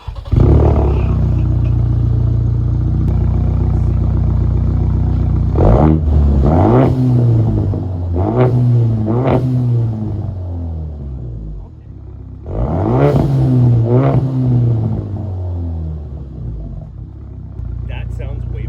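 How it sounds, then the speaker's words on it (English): A Ford Maverick pickup's new Flowmaster aftermarket exhaust idles with a low rumble, then barks through several sharp revs in separate bursts, each rising and falling back to idle. "Okay, exhaust is done. Time to see what it sounds like."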